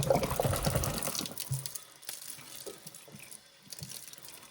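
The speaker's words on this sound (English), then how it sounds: "I really don't like washing the water bottles." Water runs from a kitchen tap into a sink while someone hand-washes reusable water bottles with strong washing-up liquid, a soft continuous splashing and trickling, close and quiet, with no speech.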